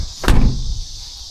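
The heavy door of an abandoned 1964 Mercury Marauder two-door hardtop swinging shut with a single solid, close thud and a brief low rumble fading away afterward.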